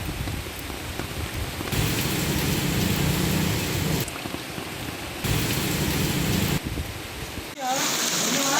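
Heavy rain in Valsad district, Gujarat, falling as a dense steady hiss with abrupt changes in loudness, as if recorded from several spots, and a brief voice near the end.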